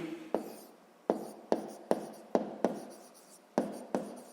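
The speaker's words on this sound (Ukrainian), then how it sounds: "Записуємо." A pen writes on paper during a math exercise, making short, close scratching strokes in an uneven rhythm of about eight bursts separated by brief pauses.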